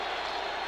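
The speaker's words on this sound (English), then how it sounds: "Now the crowd gets into it." A 1987 Cardinals at Chargers football stadium crowd roars in a sustained wash of cheering during a fourth-down attempt, distant and steady with no distinct voices.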